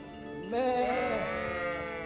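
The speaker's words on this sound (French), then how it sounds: "venez les petits moutons." A single sheep bleats in the video game Kingdom Come: Deliverance, a short wavering cry lasting about a second, clear and close.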